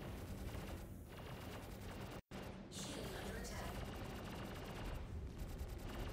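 A turret in a video game fires steady, dense rapid gunfire close and loud, with a brief cut near the middle, while a voice talks over it.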